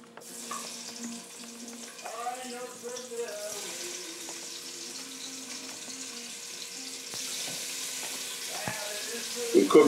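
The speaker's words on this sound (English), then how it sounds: "and we're gonna fry them up." Chicken legs and thighs, patted dry of excess water, sizzle as they fry in a pan, a steady close hiss running throughout the clip and swelling slightly louder toward the end.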